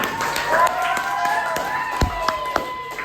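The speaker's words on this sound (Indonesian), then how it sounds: "Tepuk tangan untuk kita semua." Classroom of students clapping together, light scattered claps and taps close by with a short louder burst near the end, partly under background voices.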